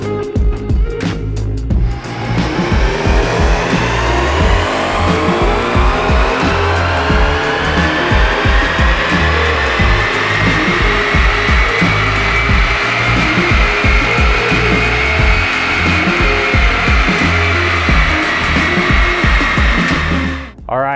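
A 10th-generation Honda Civic Si fitted with an AEM intake runs on a dyno, its engine note climbing in one long, loud, steady sweep up through the revs before cutting off abruptly.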